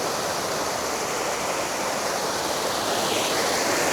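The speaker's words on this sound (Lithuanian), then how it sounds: "Vau, čia upeliukas toksai." A small mountain stream in Albania flows with a constant, full rushing wash of water, close and loud, steady throughout with no voices over it.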